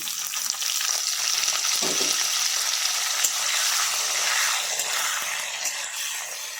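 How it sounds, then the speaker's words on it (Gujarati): Boiled potatoes fry loudly in a pan after a cumin and chili tempering, a dense continuous sizzle with occasional scraping from stirring, close up and with no voices. "હવે આપણે તેમાં જે બટાકા બાફ્યા છે તે નાખી દઈશું આ રીતે"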